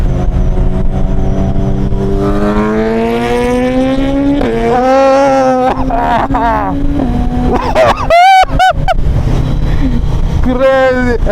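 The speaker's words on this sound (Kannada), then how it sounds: "ಫಸ್ಟ್ ಟೈಮ್ ಒಂದು ಅಯಾಬುಸ ಎಕ್ಸಾಸ್ಟ್ ಹಾಕ್ಸಿರೋದು ಓಡಿಸ್ತಾ ಇರೋದು" A Suzuki Hayabusa fitted with an aftermarket exhaust rides past loud and close, engine rising in pitch through the gears with sharp revving bursts and a brief cut near the end.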